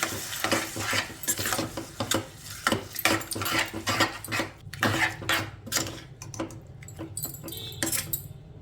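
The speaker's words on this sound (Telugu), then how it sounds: "ఇప్పుడు ఇదంతా కూడా ఒకసారి కలిపేసేసుకుందాం" A spoon stirring a tomato and red chilli chutney mixture in a pan, repeated scraping and clinking strokes at an uneven rhythm with a faint sizzle beneath, close and alone.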